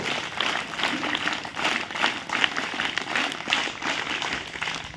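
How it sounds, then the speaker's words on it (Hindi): An audience clapping hands together at a health talk, a loud, dense burst of crowd claps with uneven pulses, sustained close-up without talk over it. "Hands down and again hands up. Claps go."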